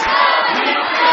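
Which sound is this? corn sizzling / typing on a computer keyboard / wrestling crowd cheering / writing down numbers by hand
wrestling crowd cheering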